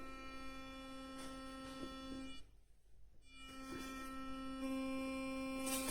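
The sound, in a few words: Philips Sonicare 7100 electric toothbrush running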